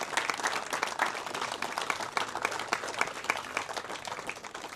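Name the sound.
audience applause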